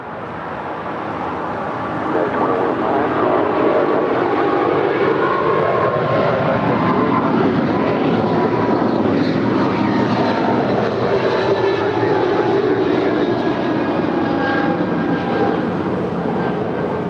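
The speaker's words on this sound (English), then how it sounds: "We now have United Airlines 2213 Heavy rolling 25 left" A United Airlines Boeing 777-200ER heavy rolling for takeoff on runway 25 left at LAX, a loud sustained jet engine roar that swells after the first couple of seconds and then holds steady and broad for the rest of the clip.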